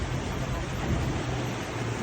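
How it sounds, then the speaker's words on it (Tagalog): Heavy rain pours steadily during a flood, heard from a tractor crossing the floodwaters, a dense continuous wash of noise with a low rumble underneath and no voices. "malakas na yung ulan na yan"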